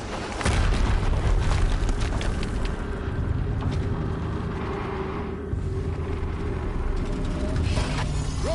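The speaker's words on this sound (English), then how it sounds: "Explosion." In the video game Horizon Zero Dawn, a heavy explosion booms and rumbles on, with a deep sustained roar and rolling low crackle that lingers for several seconds.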